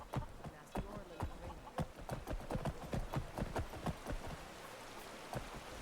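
Horse hooves clip-clopping in a modded Skyrim Special Edition, a quick, steady rhythm of close hoof strikes over a soft rain-like hiss.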